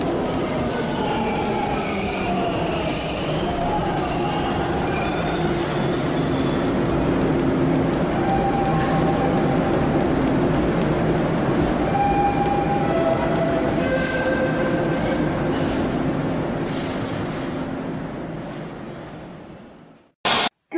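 A train rolls past with a loud, continuous rumble, wheels squealing and metallic clatter sustained for about twenty seconds before cutting off abruptly.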